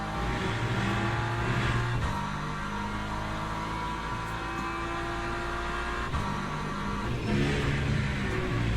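An LMP2 prototype in the Le Mans Ultimate sim racing game, engine whine revving and shifting over an own-car drone, with gear changes and a car closing in and passing.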